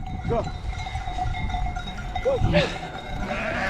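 A couple of short sheep bleats rise over steady rumbling background noise, with a continuous hum running throughout.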